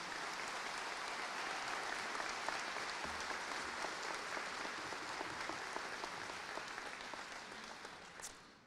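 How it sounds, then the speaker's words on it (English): A graduation commencement audience applauds steadily, a dense, even wash of clapping from a large crowd that continues unbroken and fades slightly at the end. "Please give them a round of applause in recognition of their generosity,"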